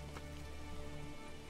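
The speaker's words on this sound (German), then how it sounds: "Und es regnet ziemlich viel." Rain in the medieval city-building game Manor Lords: a soft, steady, even hiss of rainfall, faint and continuous with no voices.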